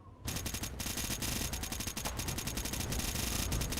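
Sustained rapid gunfire in the Fallout video game, a dense continuous stream of shots that starts abruptly and keeps a steady fast rhythm, loud and alone without talking.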